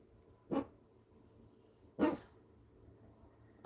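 A sleeping puppy barks in her dream, giving two short, soft, muffled woofs about a second and a half apart with a third starting at the end, heard alone in a quiet room.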